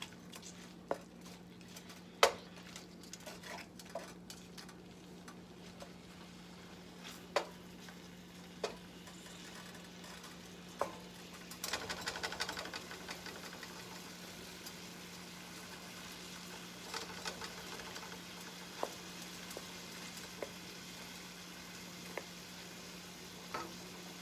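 Shrimp fry in a pan with a steady, soft sizzle, broken by sharp scattered clicks and clacks as the pieces are flipped; no one speaks.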